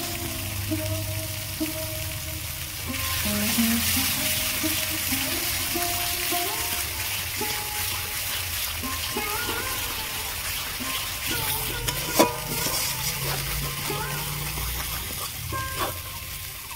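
Nut and seed paste of cashew, poppy seed and melon seed hits hot oil with fried onion, ginger and garlic for egg korma, sizzling and bubbling steadily with stirring scrapes and a sharp clink near the end.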